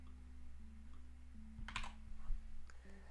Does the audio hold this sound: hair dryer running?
no